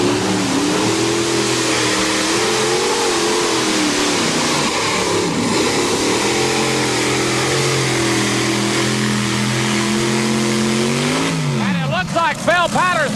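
Modified pulling tractor from a 1989 NTPA 9200 class pull in Atco, NJ roaring loudly and continuously down the track, its engine pitch wavering and dropping as the throttle eases, with a commentator talking over it.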